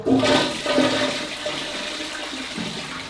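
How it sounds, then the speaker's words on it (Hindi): A toilet in an underground bunker bathroom, fed by well water, flushes with a loud close rush of water that slowly tapers into a softer gurgle. "यहाँ से पानी आएगा, यहाँ से आप फ्लश कर सकते हो"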